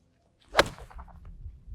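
A golf club swings and strikes a golf ball on a practice range, one sharp whip-like crack followed by a brief fading tail, alone with no talk.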